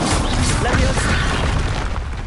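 A Confringo blasting spell goes off in Hogwarts Legacy, a loud booming explosion that fills the clip and fades toward the end, with a voice calling out spells over it.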